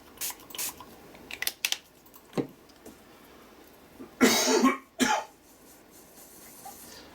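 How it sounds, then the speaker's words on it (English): A person coughs repeatedly and clears their throat in a quiet room, a few scattered small coughs building to two loud, harsh bursts near the end, with faint handling clatter in between. "You know I'm going to get comments about your coughing"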